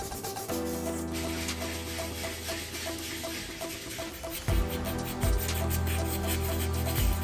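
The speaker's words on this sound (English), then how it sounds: "So I sanded them lightly to make it nice and smooth." Light hand sanding smooths painted vases, giving a continuous close scratchy rubbing with a steady hum behind it and a brief shift in tone partway through.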